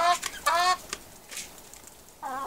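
Laying hens and one young rooster in a greenhouse coop cluck and squawk in short, close bursts, with quiet gaps between calls and a louder cluck near the end.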